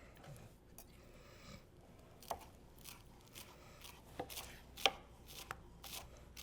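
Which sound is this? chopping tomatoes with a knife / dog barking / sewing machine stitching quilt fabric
chopping tomatoes with a knife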